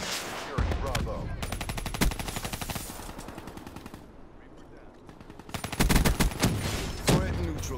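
Close combat in Call of Duty Black Ops III with a shotgun in play, loud dense gunfire in long rapid volleys that fade in the middle, then surge back hard near the end.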